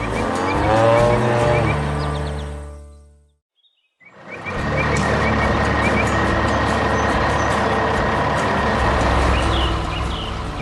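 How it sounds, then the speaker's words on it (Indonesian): Animated large green truck and yellow excavator working in a city, a loud continuous engine roar with squeals and beeps that cuts out briefly, then returns steady and dense. "Truk hijau besar dan ekskavator kuning itu bekerja bagaikan raksasa besi yang sedang beraksi."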